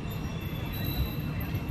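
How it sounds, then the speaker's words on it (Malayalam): The Madurai–Chenkottai–Kollam train rolls past at a railway crossing, a close, steady rumble of wheels with a thin high squeal above it. "ക്രോസിംഗ് ഇവിടെ നടന്നുകൊണ്ടിരിക്കുകയാണ്. ഈ ട്രെയിൻ എന്ന് പറയുന്നത് ചെങ്കോട്ട കൊല്ലം"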